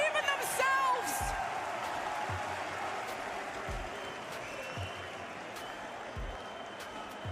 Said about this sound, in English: listen to these people cheering for you